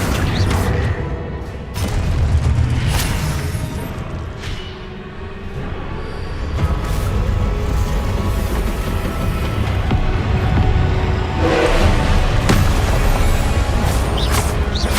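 Confringo spell blasts in Hogwarts Legacy land as loud, dense booming explosions, with crashing impacts and rumbling debris layered over continuous game noise throughout.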